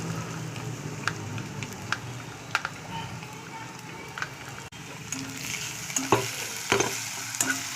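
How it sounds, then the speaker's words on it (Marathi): Onion, green chili, garlic and ginger paste sautéed in hot oil: steady soft sizzling and frying crackle throughout, with light stirring scrapes and taps near the end. "हे मिश्रण हिरव्या मिरचीचं टाकून घेतल्यानंतर चांगलं परतू घ्यायचं आहे तेल सुटेपर्यंत"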